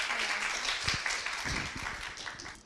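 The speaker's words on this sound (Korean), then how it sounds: "네, 큰 박수 부탁드립니다" Audience at a social-service investment networking event applauds a presenter taking the stage, a brief, moderately loud wash of clapping with a few louder claps standing out.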